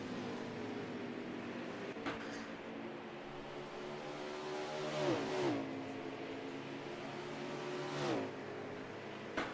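Ford racing truck at Phoenix track passing in repeated faint swells, engine whine rising and falling as trucks sweep by at distance, with quieter gaps between passes.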